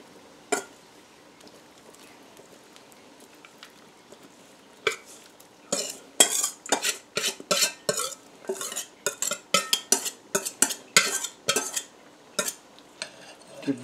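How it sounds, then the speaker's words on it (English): Spoon scraping and clinking against a pot while ham and bacon are stirred into a thick melted cheese soup, a quiet start building into a steady run of close, sharp metallic knocks and scrapes with no talking. "Give that a real good mix up."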